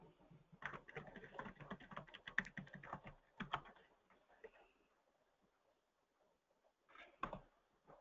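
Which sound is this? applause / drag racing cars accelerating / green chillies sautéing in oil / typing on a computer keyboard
typing on a computer keyboard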